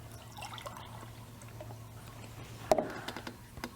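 Water is poured for a drink during a science-show experiment: a quiet background hum gives way to a sudden splash, then a short run of scattered drips and trickles.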